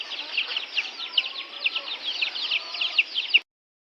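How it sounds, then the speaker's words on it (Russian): A rooster with three hens on a farm yard, clucking in a quick, busy stream of short, close calls that stops abruptly. "Петух с 3 курочками."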